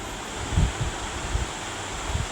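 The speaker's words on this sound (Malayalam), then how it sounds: "ഈ കാറ്റടിക്കുന്ന സാധനം വെച്ച് ഞാൻ പറന്നു." A wind-blowing gadget used for flying in the Roblox video game gives a steady, airy whoosh with a few soft low thumps. No one speaks.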